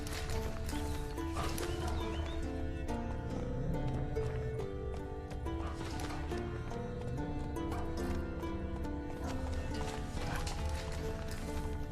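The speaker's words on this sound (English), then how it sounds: "Whoa there, Roach." In The Witcher 3: Wild Hunt, a ridden horse clip-clops along with steady, close hoofbeats under game music, with occasional snorts or whinnies.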